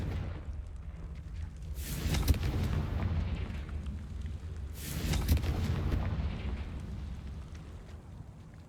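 In the Hogwarts Legacy video game, the Confringo blasting spell sets off two booming fiery bursts a few seconds apart over a low, continuous rumble, moderately loud and with no talking.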